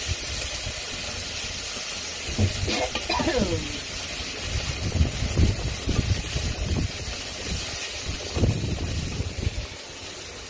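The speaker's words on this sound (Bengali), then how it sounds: "এত বাতাস ছাড়ছে বাতাসে থাকা যায় না" Strong wind roars in a constant broadband rush, with gusty bursts and a few faint voices breaking through now and then.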